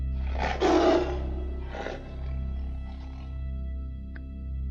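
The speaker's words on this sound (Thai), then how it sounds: "ก็เกิดเสียงคำรามของเสือดังกังวานขึ้น" A tiger roars twice in a jungle scene, a strong close roar followed by a shorter, weaker one, over a steady low background hum.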